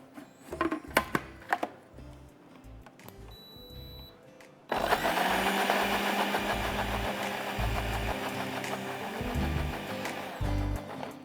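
A blender purees canned corn with its liquid. After a few soft knocks, the motor kicks on loudly at about the midpoint and holds a steady, dense whirring roar until the end.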